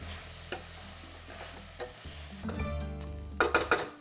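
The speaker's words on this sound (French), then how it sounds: "On ajoute le riz, c'est du riz basmati. On va venir le perler." Basmati rice being stirred and toasted in a pan, a soft sizzle under scraping strokes, then a few louder clinks of a utensil against the pan near the end, close up and with no talking.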